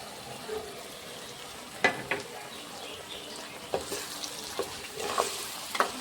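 Ground masala paste sizzles and hisses in a pan for soybean gravy while being stirred, with a steady frying crackle broken by several sharp scrapes and taps of the spoon against the pan.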